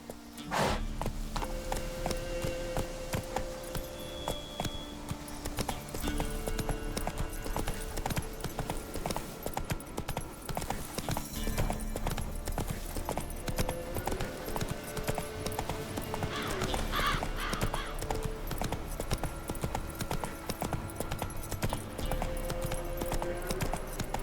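Roach, Geralt's horse in Witcher 3: Wild Hunt, gallops with steady, rhythmic clip-clopping hooves over game music and ambience. A brief whinny and a few short spoken lines come through.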